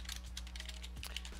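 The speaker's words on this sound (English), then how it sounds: "I'm typing it in here." Fast, steady typing on a computer keyboard, a quiet run of clicking keystrokes over a low indoor hum.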